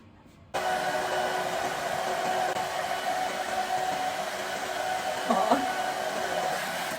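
A hair dryer runs steadily and fairly loud at close range while drying hair, a constant blowing whine starting abruptly after a brief quiet moment and continuing without pause.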